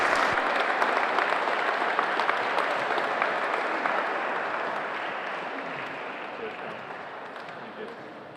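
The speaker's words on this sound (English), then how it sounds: "can everyone give a huge round of applause?" Audience applause for an All Ireland Senior wallball champion at a handball championship, steady dense clapping from a crowd that holds for several seconds and slowly fades.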